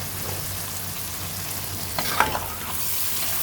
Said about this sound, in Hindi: इनको भी 2 से 3 मिनट तक हम फ्राई कर लेंगे।